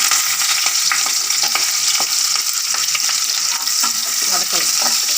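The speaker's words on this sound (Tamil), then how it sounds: "இந்த 4 பூண்டு பல்ல நசுக்கின பூண்டு பல்லும் ஒரு சிட்டிகை பெருஞ்சீரகமும் எண்ணெயில் போட்டுறோம்." Four crushed garlic cloves and a pinch of fennel seeds fry in hot oil for a manathakkali keerai saaru, giving a loud, steady, close sizzle with a few light stirring clicks and no talking.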